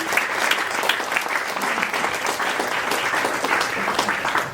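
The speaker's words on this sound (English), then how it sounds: "Give them a round of applause." Sustained audience applause at a panel discussion on stabilizing and supporting renters, steady dense clapping from a crowd of moderate loudness lasting several seconds.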